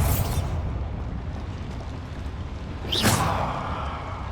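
Bombarda blasting spell explosions in Hogwarts Legacy, a rumbling blast at the start and a sharper whooshing burst near the end over a loud, continuous roar.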